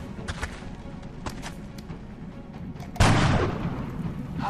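Gunfire in the video game XCOM: Enemy Unknown, with a few sharp shots early on and then a heavy booming blast that keeps reverberating until the end.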